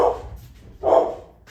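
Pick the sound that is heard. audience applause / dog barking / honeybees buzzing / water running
dog barking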